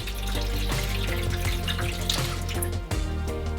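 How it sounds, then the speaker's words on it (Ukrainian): Water running steadily from a tap or being poured into a baking tray during sausage cooking, a continuous close splashing flow with a low background hum that breaks briefly near the end. "у деко наливаємо воду"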